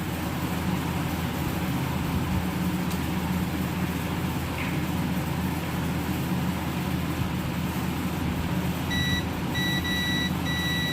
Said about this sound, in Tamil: பீப் சவுண்ட் வருது, கேட்குதுங்களா?